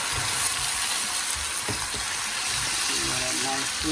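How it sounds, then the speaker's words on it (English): Chicken, tomatoes and onion for Jamaican brown stew chicken sizzle in a pan with a steady broadband hiss, loud and close, broken by a few clicks and low thumps, with a voice speaking over it. "Nice sizzling going on."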